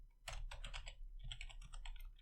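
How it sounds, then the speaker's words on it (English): Rapid keystrokes on a computer keyboard, close and clear, falling into two quick bursts of typing separated by a brief pause. "So let's type something in here."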